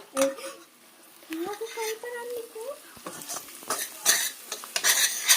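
Egg curry is stirred in a pan, spoon clinks and scraping over a faint sizzle, with a voice talking during the stirring.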